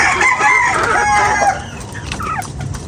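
Chickens being fed, with a loud nearby rooster crow and rapid clucking up front, then quieter scattered clucks and calls.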